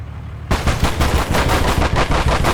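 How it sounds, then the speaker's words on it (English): A flak gun in the World War II strategy game Gates of Hell fires loudly and continuously, a dense, rapid run of overlapping shots that starts abruptly after a brief near-silence. "Somehow the flak gun is actually hitting me through the wood pile."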